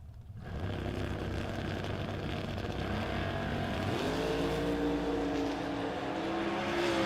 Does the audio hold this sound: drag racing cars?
yes